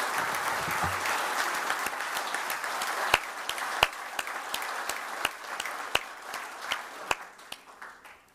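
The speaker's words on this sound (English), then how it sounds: "maybe join me again in an applause to all of my fellow finalists" A crowd applauds at an ECB Forum on Central Banking award ceremony, dense clapping that gradually thins out into scattered, sharper individual claps toward the end.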